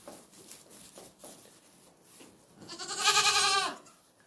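A goat bleats once, loud and close, a wavering drawn-out call of about a second, preceded by soft shuffling and faint voices in the background.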